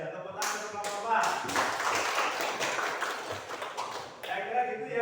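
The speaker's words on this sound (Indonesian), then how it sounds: "Tepuk tangan untuk kelompok" A class applauds a student group during a lesson on funeral rites. A burst of dense clapping swells and lasts several seconds, mixed with voices and chatter.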